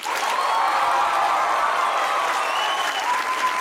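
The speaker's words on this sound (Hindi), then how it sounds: "तो बजाइए तालियां।" A studio audience at a Pakistani comedy talk show claps and applauds loudly and steadily, a dense, close wash of clapping that fills the whole stretch with no voices over it.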